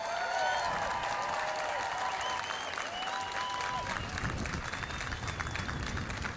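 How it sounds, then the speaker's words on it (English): Spectators at the opening ceremony of the Atlantic Youth Touch Cup 2025 cheer and applaud the players on the field, a loud sustained wash of clapping with whoops and whistles running throughout. "could I just, all the spectators, give everybody out on that field a massive cheer?"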